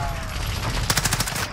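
Rapid bursts of gunfire from the battle royale video game Call of Duty Warzone, a quick string of shots in the second half, loud against background game noise and an excited voice.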